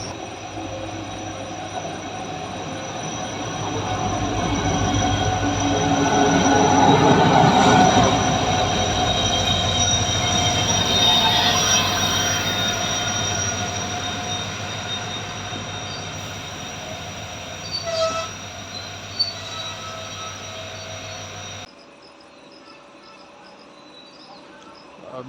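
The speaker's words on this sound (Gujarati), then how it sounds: "બીજી ટ્રેનનું ક્રોસિંગ" A passing train crosses on the railway between Bhavnagar and Junagadh, a long steady rumble of wheels and cars with faint squeals that swells midway, then cuts off to quieter surroundings with insects chirping.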